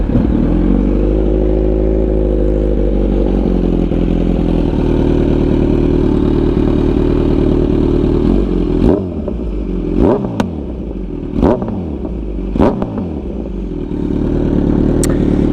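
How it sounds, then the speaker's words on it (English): A 2023 Kawasaki Z900 motorcycle with a loud aftermarket-style exhaust settles into a steady idle, then snaps through four or five sharp throttle blips that drop back toward idle each time, close and loud, with no talking. "Give it a little start up. A few revs for you guys"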